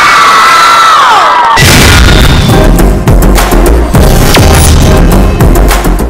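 Loud studio audience of girls at a TV game show erupting in cheers and whoops, with dense clapping after a song performance. The crowd noise starts abruptly and stays strong and continuous, with a few sharp bursts.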